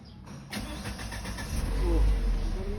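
A Peugeot 3008 with a starting fault cranks briefly, then its engine catches and settles into a rising, steady run, loud and close.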